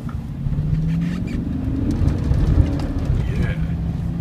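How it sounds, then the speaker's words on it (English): A truck shifts into passing gear and accelerates on a road in Tucson, with a steady engine drone heard from inside the cab and faint talk underneath. "Let's try our passing gear here."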